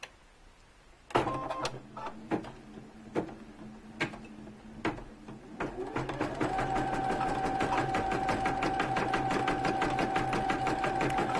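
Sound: Brother Innovis 1500d embroidery machine stitching

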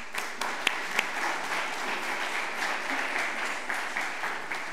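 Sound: audience applause

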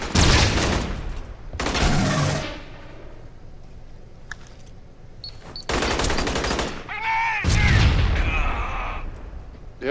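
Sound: grenade explosion amid gunfire in Aliens: Colonial Marines video game

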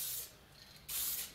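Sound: spraying epoxy primer on a car body

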